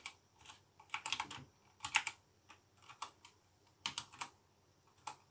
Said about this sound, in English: Then you type the player's name.